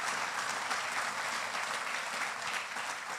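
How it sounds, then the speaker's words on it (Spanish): A church congregation breaks into loud, steady applause during a Spanish-language sermon, a dense wash of clapping sustained without pause and no voices rising above it. "Dale un fuerte aplauso al Señor."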